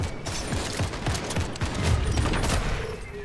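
Rapid gunfire rattles through a Fortnite match, many close, sharp cracks in quick bursts, with one louder, heavier sniper-rifle shot standing out near the end.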